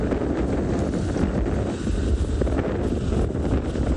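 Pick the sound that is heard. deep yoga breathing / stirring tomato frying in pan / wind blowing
wind blowing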